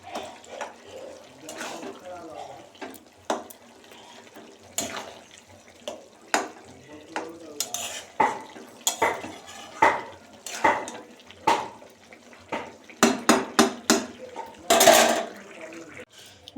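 Potatoes in a pot of dal are stirred, giving scattered clinks and scrapes of a utensil against the metal pot. The knocks come in irregular bursts, interspersed with quieter stretches and some talk.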